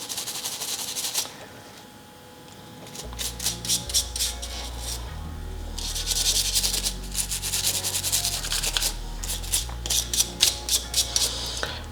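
A brush scrubs gun parts coated in Shooter Lube solvent, bursts of quick rhythmic rasping strokes with a pause near the start and a low rumble beneath, close and fairly loud.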